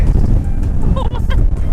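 Strong wind in Death Valley National Park buffets the microphone in a steady, heavy low roar, with brief voices speaking faintly underneath.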